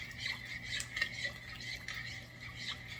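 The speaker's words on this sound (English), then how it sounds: "we're going to give all of that a good stir" Melted plant butter is stirred into buttermilk with a utensil that clinks and scrapes against the bowl in a loose, repeating rhythm, soft and close, with a faint low hum underneath.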